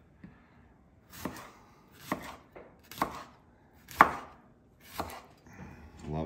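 A knife chopping vegetables such as cucumber, red onion and heirloom tomatoes on a board, seven or so distinct thuds at an uneven, unhurried pace, close and clear with no talking.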